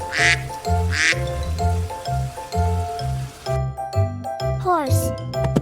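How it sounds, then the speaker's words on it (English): A duck quacks in a children's animal-homes learning cartoon, a few bright quacks over a bouncy, jingly music track, with a voice speaking. "A duck lives in pond."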